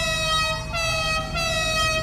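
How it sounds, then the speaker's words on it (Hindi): A motorbike horn in GTA Online sounds as a loud, sustained, wailing tone with a slight dip in pitch, like a scream or siren, continuing on its own without talk. "ऐसा इसका हॉर्न ही है सच में, मैं तुम्हें दिखाता हूँ, रुक जाओ।"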